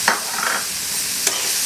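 A spoon stirs chopped capsicum into mushroom kulambu in a pan, a soft scraping stir over a constant gentle sizzle, close by, with a couple of brief sharp scrapes.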